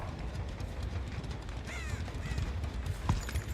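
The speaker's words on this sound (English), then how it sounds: "Maybe it's just the crows." Crows cawing in the Dead by Daylight game, a few harsh caws rising out of a low rumbling ambient bed, moderately faint and set back from the listener.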